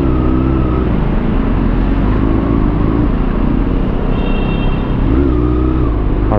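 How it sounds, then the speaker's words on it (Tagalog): Rush hour traffic on a busy road, heard from a motorcycle in the flow, with loud continuous engine drone, cars and vehicles passing close by and occasional revving, steady and uninterrupted. "Traffic talaga lagi dito, lalo nga pagka ganitong oras,"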